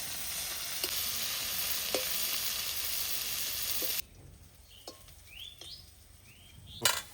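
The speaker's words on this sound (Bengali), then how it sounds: "ভালো করে ভাজা করে নেবো একটু" Steady sizzling of onions and green chillies frying in a pan for about four seconds, then it drops away, leaving a few clinks and faint bird chirps.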